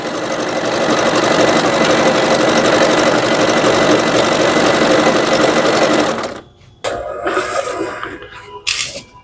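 Butterfly sewing machine stitching thin cotton cloth, a loud steady motor whir with rapid needle clatter running continuously, then stopping abruptly and giving way to a few short, uneven bursts of handling and restarts.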